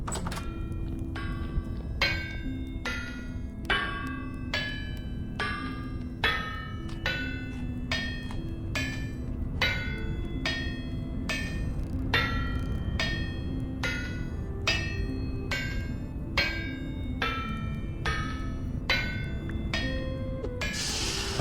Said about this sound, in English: I'm just so thrilled I don't have to do the hammering myself.